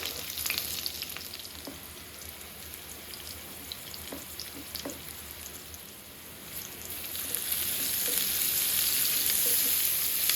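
Onion, green chilli and a little garlic sizzle steadily in hot oil in a pan, a dense close frying hiss that swells somewhat louder toward the end, with no talking.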